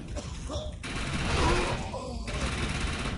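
Gunfire in the online shooter Defiance rattles in rapid bursts, close and fairly loud, with voices mixed in.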